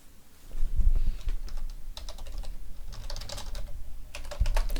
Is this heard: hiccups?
no